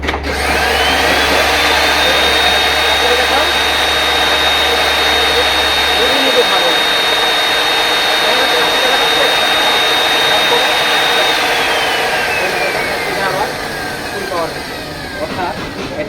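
An electric drill spins a dynamo under repair, a loud, close, sustained high whine with a steady pitch that later drops slightly as it slows, while people talk over it.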